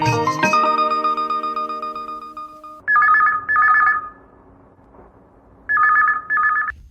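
A chime fades out, then a telephone rings in two paired bursts, pauses, and rings twice more, loud and clear.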